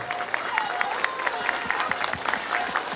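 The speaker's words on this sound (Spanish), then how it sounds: "¡Fuerte las palmas, señoras y señores!" Applause from the audience at a provincial councillor's swearing-in ceremony in Huaura, steady clapping throughout with some crowd murmur and a faint tone, moderately loud and close.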